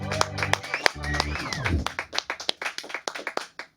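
A small group on a talk show gives a round of applause for radio host Ron Bennington, scattered distinct hand claps following a man's speech and a descending tone.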